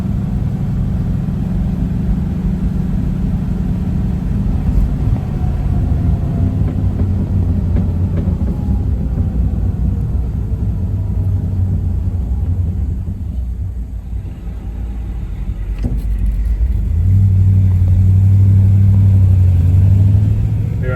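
A 1950 Oldsmobile 88 with a 303 Rocket V8 and three-speed manual gearbox drives down a road, a steady low engine rumble that swells louder near the end as it pulls ahead, with no talk.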